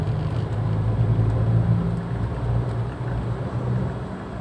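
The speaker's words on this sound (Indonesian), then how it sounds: "Jadi begitu kita nginjek gas dia langsung lari." A Daihatsu Xenia 1.0 car accelerating under throttle, its low steady engine drone and rumble holding for several seconds at fairly loud level with no talk.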